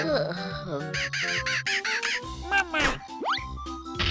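A cartoonish bird creature in Banjo-Kazooie's Click Clock Wood squawks and caws over bright chiming music, with a rising squeaky swoop near the end.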